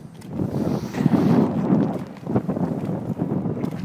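Wind on a cold, cloudy day buffets the microphone in uneven low gusts, a close, rough rumble that rises and falls without pause.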